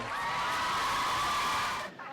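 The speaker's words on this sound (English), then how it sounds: "Round of applause for both of them." A high school crowd cheers and whoops for performers, a dense, loud wash of shouting voices that fades out abruptly near the end.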